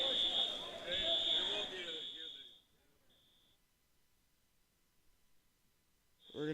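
In a sports venue, an electronic alarm gives a steady high beeping tone over crowd noise and echoing voices, then fades to short intermittent beeps in a quieter hall.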